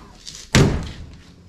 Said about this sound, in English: The doors open and close.